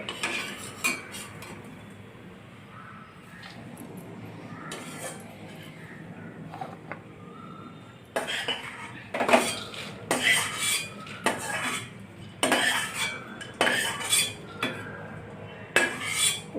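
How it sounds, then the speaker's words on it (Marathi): Almonds roast in ghee in a pan while a spoon stirs them, making clinks and scraping scuffs that come in irregular, louder bursts in the second half over a quiet background. "आता आपण बदाम भाजत आहोत"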